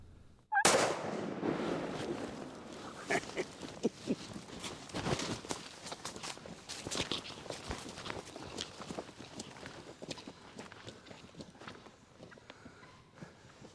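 A gunshot fired at a turkey gobbler during a veterans' spring turkey hunt, a sharp loud crack near the start followed by rustling, footsteps and movement through the woods.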